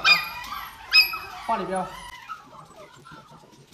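A litter of nine golden retriever puppies yelps and barks in short, close, high bursts, then trails off into soft whimpers, with someone talking over them.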